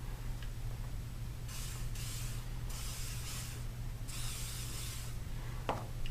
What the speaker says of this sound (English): spray the front with a little bit of WD-40.